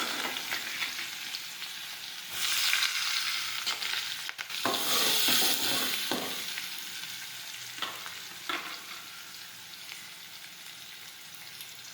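Onions fry and sizzle in a pan with asafoetida and chili while urad dal is being cooked. The sizzle is steady, with loud bursts as ingredients drop in and occasional stirring scrapes.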